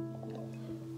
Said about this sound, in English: Let me drink.